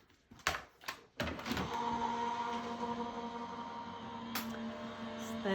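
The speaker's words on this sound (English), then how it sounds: "We're going to run that through our die cutting machine again." A card feeding through a die cutting machine: a few sharp clicks, then a steady mechanical whirring hum with a faint tonal drone as it rolls the card through, close and moderately loud.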